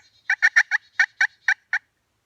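Fly-down cackle of a wild turkey imitated on a turkey call: a quick run of eight clipped, loud notes, bunched at first then slightly spaced, close and alone.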